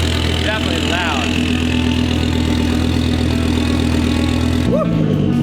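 Loud, raspy rumble from a 2004 Volvo V70R straight-pipe exhaust, held steady with brief rising whines early on and a change in engine tone near the end.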